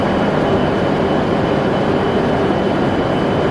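A Shinkansen bullet train near Takaoka, Japan gives off a steady, dense roar that holds at a constant loud level throughout, with no voices.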